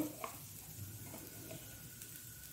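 Shallots and methi fry with turmeric powder in a pan, a faint, steady sizzle with a few soft stirring scrapes over a couple of seconds, no speech.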